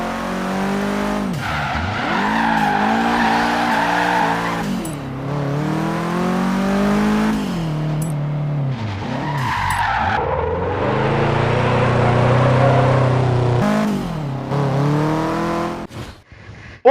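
Subaru Impreza drifting in the Forza Horizon 3 racing game, engine revving and wavering in pitch as tires squeal and skid through long slides, loud and continuous with brief dips between passes.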